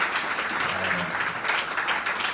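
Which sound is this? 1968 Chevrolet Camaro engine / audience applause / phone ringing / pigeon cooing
audience applause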